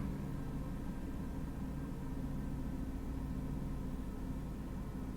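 A repaired Mercedes-Benz S-Class, formerly shaky, idles smoothly in a quiet setting, a low steady rumble that holds level and faint with no speech.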